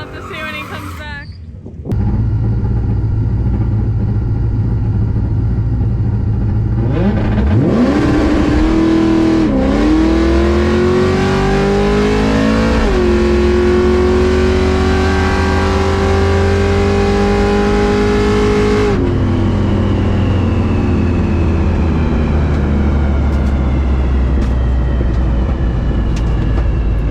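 A car launches hard off the line at 4,500 RPM, the engine roaring loud and close with rising pitch through a couple of gear changes before dropping to a steady drone.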